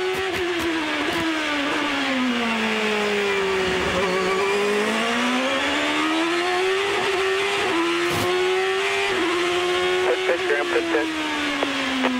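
A 2007 ChampCar race car in practice at the Surfers Paradise street circuit, its engine note rising and falling through a corner. It screams with gear changes and brief tire chirps, loud and continuous with no talking over it.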